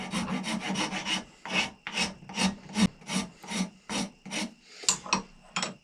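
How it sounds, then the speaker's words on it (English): A hand rasp files a wooden plug for a simple powder horn, shaping a slight taper in roughly a dozen rhythmic rough strokes, each a short scratchy rasp, close and clear with brief pauses between. "I'm still going to be using the rasp part."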